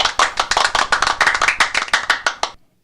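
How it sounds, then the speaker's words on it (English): Hand clapping, loud and close, a quick run of sharp individual claps at an uneven rhythm that stops abruptly, followed by silence. "That's an applause."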